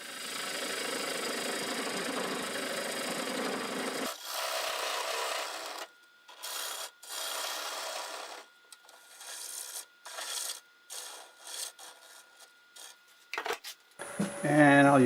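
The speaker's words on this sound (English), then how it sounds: "I'll use a 1/2 inch bowl gouge to cut the rest of it out." A 1/2 inch bowl gouge cuts wood on a lathe, first a continuous rough scraping roar, then a string of short bursts of cutting separated by quiet gaps.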